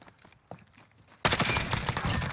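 A sniper rifle shot in Call of Duty: Modern Warfare, a match on the Hardhat map: a sudden loud blast after quieter faint footsteps, followed by dense, sustained gunfire that lingers to the end.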